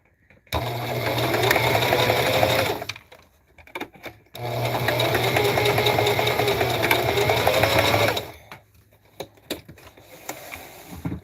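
A sewing machine stitches slowly through the bulky seam of a tote bag made from Dollar Tree placemats, running in two steady bursts of about two and a half and four seconds, with quiet pauses and handling noises between them.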